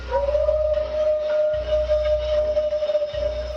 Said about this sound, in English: A very distinct, somewhat aggressive howl.